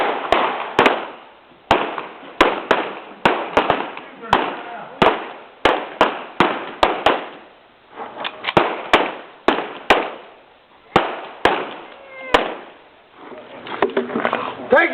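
Shotgun blasts ring out during a staged Wild West gunfight show in a mountain ghost town, sharp cracks fired in rapid, irregular bursts over a steady background of crowd and outdoor noise.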